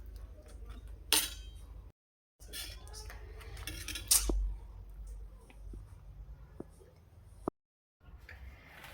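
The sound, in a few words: mixing egg in a bowl for egg bread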